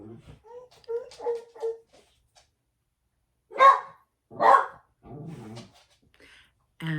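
Several barks from a dog at home, two loud close bursts standing out among fainter yips and soft speech, with quiet gaps between.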